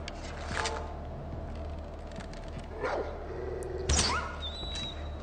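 A dog barks in the video game Far Cry 4, a few distinct barks spaced out over a busy background of game ambience and movement noise.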